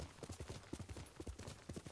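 Rapid, rhythmic hoofbeats of a horse clip-clopping across ground in a video game, steady and fairly close, with faint background noise.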